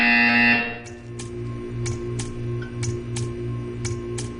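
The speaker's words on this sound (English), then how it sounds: "You will hear a buzzer" A Portal 2 test-chamber buzzer pulses in steady repeated bursts, about seven even beats over a low electronic hum, with a fading tone before the first beat.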